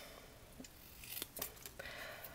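Scissors snip through paper while a crafter fussy cuts a card sentiment, a string of quiet, close, crisp cuts with a brief pause between them.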